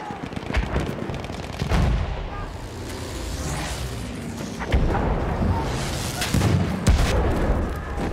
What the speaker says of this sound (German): Ich werf eine Granate, aufpassen!